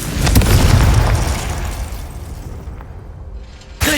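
A Confringo fire spell blast in the video game Hogwarts Legacy gives a loud, deep explosion that rolls and decays over a few seconds. A sudden sharp burst follows at the end, with no talking.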